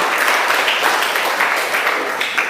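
Audience applause for Sandra in a classroom setting, a steady dense patter of many hands clapping at even loudness for a couple of seconds, with no voices over it.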